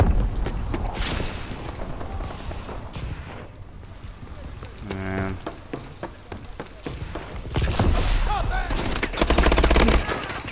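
Gunfire crackles in a Call of Duty: Advanced Warfare team deathmatch, scattered distant shots and bursts running through a busy battlefield mix, with a louder flurry near the end.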